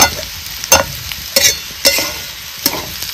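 A spoon stirs country cucumber bhaji frying in oil, with five or six sharp scraping strokes against the pan over a steady, close sizzle and no voices.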